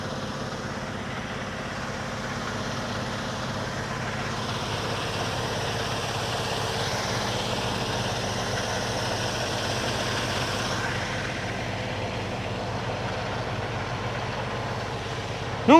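A truck engine idles at a truck stop yard before pulling away, a steady low rumble that swells slightly midway and stays constant throughout without speech.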